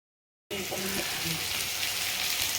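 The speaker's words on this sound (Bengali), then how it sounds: "এখানে আলু ভাজা হচ্ছে" Potato pieces fry in hot oil, a dense, even sizzle that starts abruptly after a moment of silence and carries on steadily up close.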